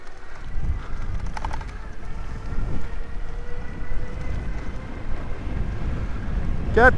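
A Samebike 20LVXD30-II e-bike accelerating to 35 km/h, steady loud wind buffeting over the microphone with low road rumble throughout and a faint squeak at the very end.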